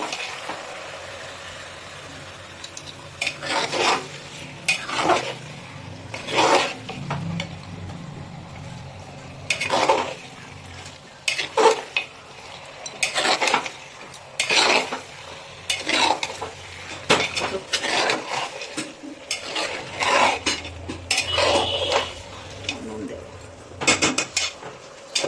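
Mutton stirred into partly fried onions in a pot makes repeated metal scraping and clanking strokes in uneven bursts, with a faint sizzle between them and no talking.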